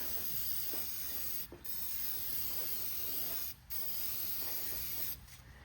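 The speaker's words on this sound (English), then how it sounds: "I'll lube up them brakes just a tad. It's WD-40." WD-40 is sprayed onto the brakes of a Cub Cadet 1606 garden tractor in three long, close, hissing bursts, each cut off by a short pause, with no talking.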